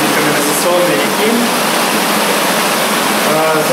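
Loud, steady roar of rushing water in a giant underground sewer collector, where a treated wastewater river begins, echoing as a constant wash of noise with faint tones beneath.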